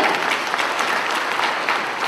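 A school audience at a children's festival claps their thumbs and little fingers together to imitate rain, producing a dense, even patter of many soft claps that continues without pause.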